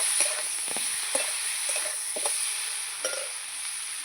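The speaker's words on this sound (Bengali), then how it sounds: "লবণ মশলা দিয়ে ভালো করে এবার নেড়ে চেড়ে নেব" A spatula stirs fish curry with salt and spices in a pan, making soft repeated scrapes and clicks over a faint continuous sizzle.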